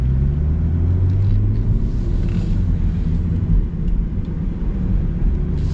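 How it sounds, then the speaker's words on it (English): A BMW M440i's 3-liter inline-six pulls hard from inside the cabin, a loud, dense low rumble that holds steady throughout with no talking. "This 3-liter inline-6 is very strong."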